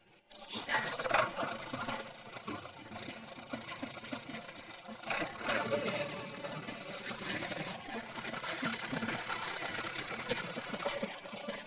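A tractor engine runs steadily throughout, a continuous mechanical rumble and whir that starts abruptly and holds a fairly even, moderately loud level, with faint background noise around it.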